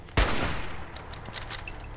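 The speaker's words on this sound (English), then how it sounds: "This is going to have a hunting rifle with a lever action receiver and a long covered sniper barrel" A lever-action hunting rifle with a long covered sniper barrel fires once in Fallout 4, a loud, sharp crack followed by a long, fading reverberant tail.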